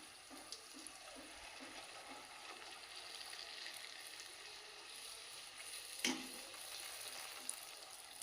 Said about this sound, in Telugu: ఒక్కొక్కటి వేసుకొని రెండు పక్కల చక్కగా గోల్డెన్ బ్రౌన్ కలర్ వచ్చేంత వరకు కాల్చుకోవాలి.